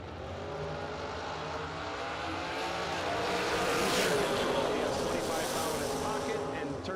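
Drag racing at a Christmas bracket race event, a very fast Camaro running down the right lane; broad, steady engine roar that swells toward the middle of the run, with a voice talking over it.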